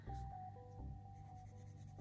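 Pencil crayon colouring on paper during an illustrator's drawalong, a soft continuous rubbing and scratching of the crayon tip that runs steadily for about two seconds under a faint tonal musical background.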